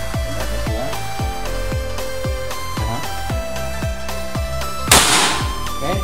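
An Ataman Mini PCP air pistol in Black Army finish fires a single sharp, brief shot about two-thirds of the way through, standing out above steady background music.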